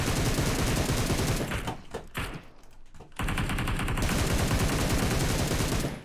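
Rapid automatic gunfire from PUBG Mobile, loud and continuous, breaks off briefly for a couple of seconds before resuming in dense bursts.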